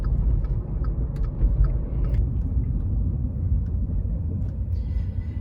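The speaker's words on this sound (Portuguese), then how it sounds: "Na hora que você acelera, fica claro que a gente está de passageiro em um carro com câmbio manual" A small car with a 1.0 engine and manual gearbox accelerating, heard from inside as a continuous low engine rumble and road noise with no talk.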